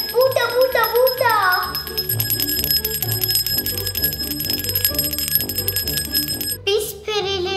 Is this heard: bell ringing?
yes